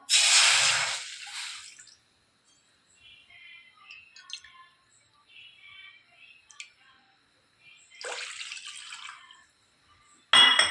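Two small bowlfuls of water go from a bowl into a wok heating on the stove: a splashy pour at the start, faint drips and trickles between, and another pour and a brief splash near the end.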